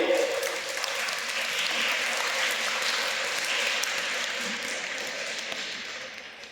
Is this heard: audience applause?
yes